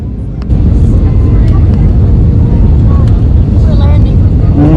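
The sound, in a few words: passenger airplane in flight on landing approach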